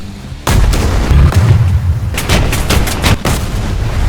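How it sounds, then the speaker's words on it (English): Explosions and gunfire in the War Thunder combat video game: a sudden heavy boom followed by a run of loud, rapid shots and blasts, close and dense, with no talking. "I love War Thunder's dedication to history and simulation here, both in the audio-visual details of these awesome explosions"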